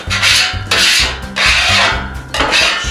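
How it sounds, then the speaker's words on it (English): A sharpened edge scraper scrapes a Blackstone griddle top in four loud, close, rhythmic strokes, each a harsh rasping rub. "just use one of these sharpened edge scrapers, and you should be able to get in there like so"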